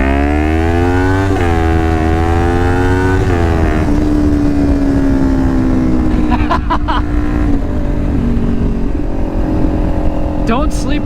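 A Kawasaki Ninja 400 revs hard toward redline while riding, its engine note climbing in pitch, dropping at gear shifts, then rising again, loud and close with wind noise throughout.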